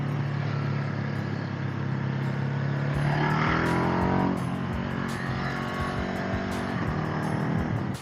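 A Ducati 950 Hypermotard motorcycle accelerates hard, its close, loud engine note climbing in pitch through the revs over steady wind rush, with no voices.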